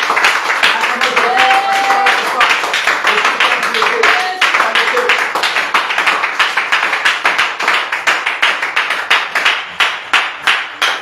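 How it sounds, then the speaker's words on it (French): Church congregation applauding in acclamation of Jesus, loud sustained clapping from many hands that settles into a steady rhythmic beat, with voices calling out beneath it. "Et on va acclamer le puissant de Jésus."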